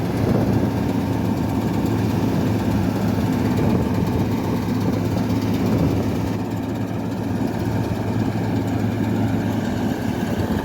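A Massey Ferguson MF 375 tractor engine, an old model, idles steadily with a low, continuous diesel rumble that stays loud and even throughout with no voices.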